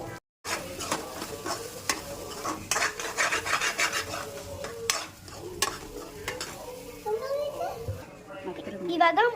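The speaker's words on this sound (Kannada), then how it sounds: "ಮೊಟ್ಟೆ ಹೊಡೆದಾಕಿ ಚೆನ್ನಾಗಿ ಫ್ರೈ ಮಾಡಬೇಕು." Eggs frying in a pan for egg pasta, with a spatula scraping and stirring in steady rasping strokes over a low sizzle, close and fairly loud, a brief silence at the start and a voice faintly in the background.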